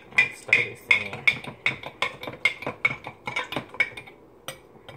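A spoon stirs sugar into a drink in a cup, giving a steady run of about a dozen bright, evenly spaced clinks against the cup's sides, close and fairly loud with no talking.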